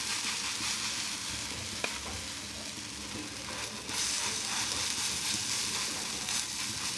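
Steady, close sizzling of bottle gourd kofta batter frying on a hot iron griddle, a continuous crackling hiss with a slight surge partway through.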